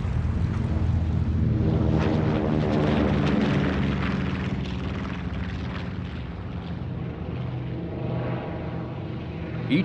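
Droning piston engines of B-25 bombers on a bombing raid, a loud, steady, layered roar that holds throughout with no speech over it.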